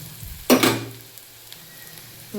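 Onions sizzling in a hot pan with garam masala just added, a quick burst of frying and stirring followed by a steady low sizzle, with no talking.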